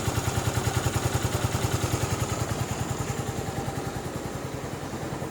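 A 2006 Yamaha Morphous scooter engine idles steadily after a cold start, putting out a fast, even pulsing putter that stays close and constant with no talk over it.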